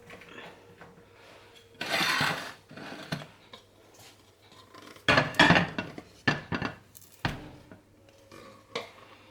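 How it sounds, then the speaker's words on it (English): Homemade playdough is tipped from a pan onto a plate, with a few scraping and clattering knocks of cookware in short bursts over a quiet background. "I'm going to tip it out onto a plate now."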